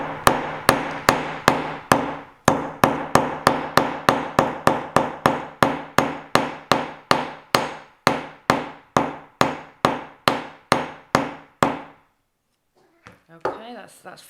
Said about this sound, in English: it's a really soft wire and we're using a soft hammer as well